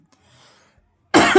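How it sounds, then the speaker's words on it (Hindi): A single loud, close cough bursts out at the end, following a near-silent stretch of faint background murmur in a classroom-style math lesson. "खांसी आ रही है"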